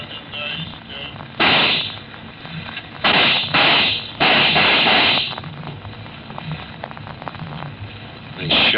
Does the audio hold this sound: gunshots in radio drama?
yes